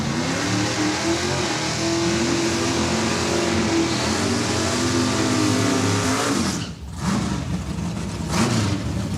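Drag racing cars at Saskatchewan International Raceway roar loudly in a continuous wall of engine noise that swells and drops briefly, heard from the track side with no talking.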